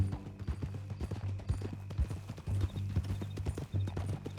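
Horse hooves clip-clop steadily and up close in the Red Dead Redemption 2 video game, an even trotting rhythm heard on its own, with a soft whinny mixed in.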